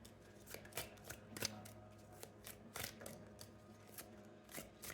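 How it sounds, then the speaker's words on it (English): A deck of oracle cards is shuffled up close, a quiet run of crisp riffling flutters and taps coming in irregular bursts with no talk. "I'm getting some oracle cards for you."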